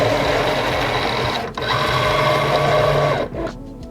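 A SINGER momento cutting machine loads the cutting mat, giving a steady, close motor whir with two short dips as the mechanism shifts.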